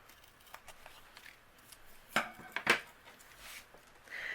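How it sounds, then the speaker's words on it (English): Scissors trimming paper overhang from a handmade card, giving a few quiet close snips and paper rustles, with two clearer cuts near the middle. "I'll trim away what's overhanging here"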